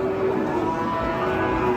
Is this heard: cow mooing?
yes